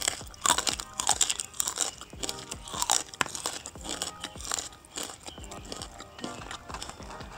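Homemade mie lidi, thin crispy fried noodle sticks, being bitten and chewed with loud, rapid crunches close to the mic, bursts of crackling repeating steadily throughout.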